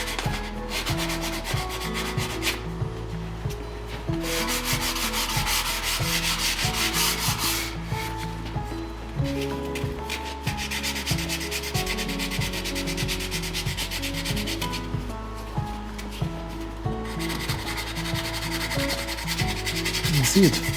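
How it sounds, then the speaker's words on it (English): Continuous rhythmic scratching of hand sanding on wood with shellac, steady back-and-forth strokes on a lap desk being restored, close and fairly loud, with no talking. "I add a little bit of shellac with my finger and then just keep sanding."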